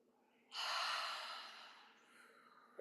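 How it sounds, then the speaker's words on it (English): One long, close inhale through the nose during a breathing exercise swells quickly and then fades slowly over about two seconds. "inhale."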